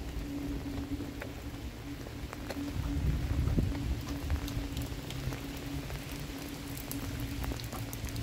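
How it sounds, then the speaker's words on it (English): Steady rain patters and hisses all around while someone walks outdoors, a dense continuous wash of drops close to the listener with a faint low hum underneath. "I like walking in the rain."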